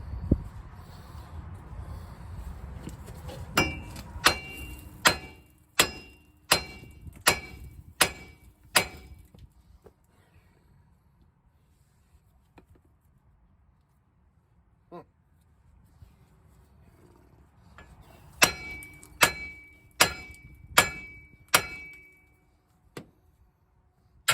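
Regular hammer pounding on a 2005 GMC Savana / Chevy Express van front wheel bearing: two bursts of sharp metallic clanks, about six evenly spaced blows, a quiet gap, then another quick run of blows, with a low background hum.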